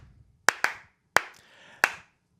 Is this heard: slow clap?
yes